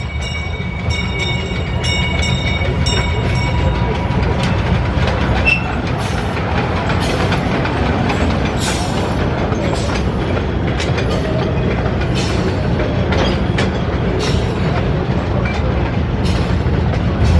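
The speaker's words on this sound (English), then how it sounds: "We've been hearing the little train go around, but I hadn't seen it." A small amusement park train rumbles steadily past at fairly close range, with continuous rolling noise and faint rhythmic clicks and clacks of wheels on track, no talking over it.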